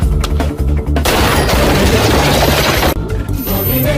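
A loud burst of gunfire sound effect, several rapid shots firing in quick succession with booming cracks close and dense, trailing into scattered echoes.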